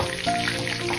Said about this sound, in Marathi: हलका ब्राऊन कलर येऊ दे त्याला। छान फ्राय झालेले आहे।